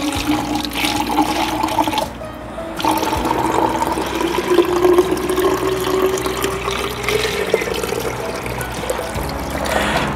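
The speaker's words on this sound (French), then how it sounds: "on va seulement mettre de l'eau pour que ça puisse faire un arrosage goutte à goutte correctement." Water pours steadily into a plastic bottle set up as a drip irrigation system, a close, continuous splashing stream whose tone rises as the bottle fills, broken by a short pause early on.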